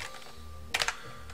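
Brief typing on a computer keyboard while working with mainframe assembler code: a short cluster of three or four quick key clicks over a low steady hum.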